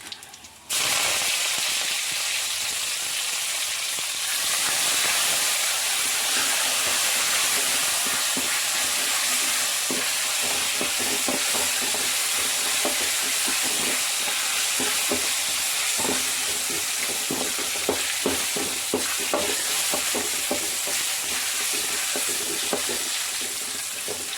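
Mustard seeds and curry leaves sizzle in hot oil while being stirred, a loud steady frying hiss throughout with scattered crackles and light scraping of the spoon.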